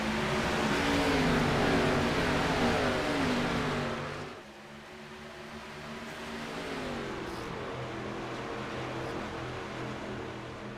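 Winston Cup stock cars roar past on the Atlanta track, a loud engine howl with shifting pitch that drops sharply, then more cars drone at a steadier, slightly softer level, with no voices.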